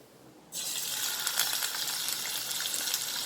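Dried anchovies hitting hot sesame oil in a pan set off a sudden loud, steady hiss of frying after a short quiet start, crackling on evenly to the end without any voices.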